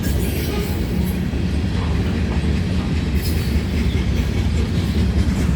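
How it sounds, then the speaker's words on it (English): A freight train with a mid-train DPU passes at night, a loud, continuous rumble and wheel roar with clattering and faint squeals, close by and steady throughout. "I think this train's got a mid DPU"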